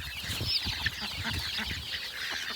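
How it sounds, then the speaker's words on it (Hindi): Ducks and chickens peck at fresh spinach on a village poultry farm. A steady, close flock murmur of clucks runs throughout, with soft scuffling and a few brighter calls. "डक्स को जो ज़रा कम ही मिल रही है पालक, लेकिन चलो कोई नहीं, ये खा रही है अच्छे से"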